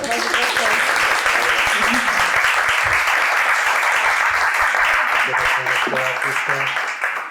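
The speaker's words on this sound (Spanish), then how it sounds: "yo quería darle un aplauso a Lucía" An audience at a book event applauds the author, sustained dense clapping from a small crowd filling the room, with faint voices murmuring underneath.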